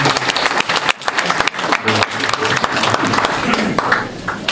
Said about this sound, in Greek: Τα παλαμάκια μας ε, δεν χρειάζονται.